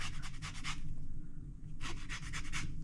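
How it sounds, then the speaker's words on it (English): Fruit peel being zested with a hand zester for no-bake breakfast bites, giving two bursts of quick rhythmic rasping strokes separated by a short pause, close and fairly quiet with no talking. "I get bored zesting"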